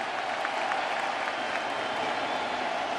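Baseball crowd at a 2019 World Series game applauding, a steady wash of clapping and crowd noise with a few faint voices mixed in, far-off and even in level.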